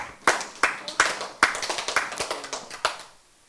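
Crisp hand claps ring out in a classroom, a handful of sharp, separate claps followed by a quicker run of lighter ones and one last clap before the room falls quiet.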